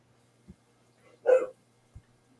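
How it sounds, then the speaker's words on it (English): A single short bark, faint and distant, in an otherwise quiet room with a couple of soft thumps. "Holy cow, who's barking?"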